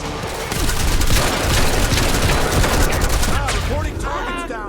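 Sustained automatic gunfire in the video game Quantum Break: loud, rapid volleys continue throughout, with overlapping weapons, and shouted voices come in near the end.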